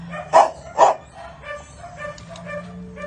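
Two sharp dog barks close together near the start, followed by quieter yips and whimpers from dogs in a noisy animal shelter room.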